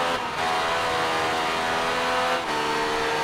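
A Yamaha motorbike engine holds a loud, steady, high rev in Ride 3, close and continuous with slight dips in pitch.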